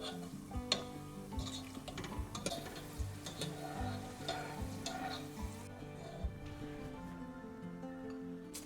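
Whole spices and cashews fry quietly in oil for a Kerala prawn biryani: a soft, steady sizzle runs under irregular clicks and scrapes of stirring in the pan, with no speech.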